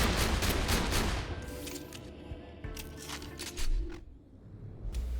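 The Conference Call shotgun from Borderlands 2 fires in quick successive bursts, each a crackling blast of scattered pellet shots with short gaps between, fairly faint and with no voices.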